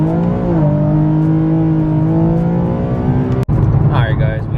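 An Infiniti Q50 on new aftermarket wheels pulls hard, its engine note climbing in steady rising harmonics for several seconds, then a brief gear-change dip before it resumes, loud and close, with a voice speaking over it near the end.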